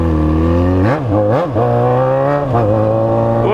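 A Yamaha XJ6 motorcycle revving and accelerating in traffic, its engine loud and close, with a few quick throttle blips rising and falling before a steady, sustained pull.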